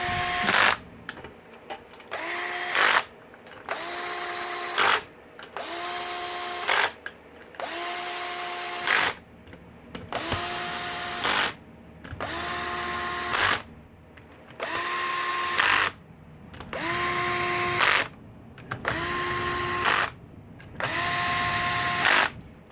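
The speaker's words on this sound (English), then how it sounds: "I'll use a cordless here with the drag set, so I can't really strip anything out, just to seat all these." A cordless drill with its clutch set seats screws into a 2004-2013 Yamaha YFZ450 engine during a rebuild. Around ten short, loud whirring bursts come one after another, each separated by a brief pause.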